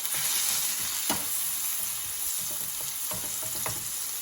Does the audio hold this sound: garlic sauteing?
yes